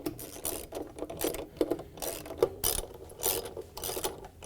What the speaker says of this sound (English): we can use our 10mm socket to go around and put the rest of the bolts in.